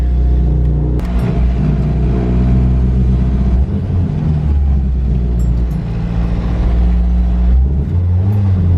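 A K20-swapped EK sedan car engine runs loud and steady, revving higher with a deep rumble throughout, no voices, heard up close.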